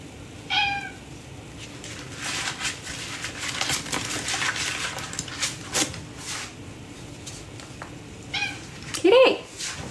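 A cat meows twice, a clear call near the start and another near the end, over a clattering household background with someone talking quietly.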